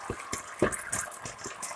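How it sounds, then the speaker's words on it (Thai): Coconut milk is poured into green curry paste already boiling in a pan for Thai green curry with chicken, a soft liquid splashing and bubbling with faint irregular gurgles. "พอพริกแกงเดือด แบบนี้แล้วเขาสิเทน้ำกะทิลงไปอีกนะจ๊ะ"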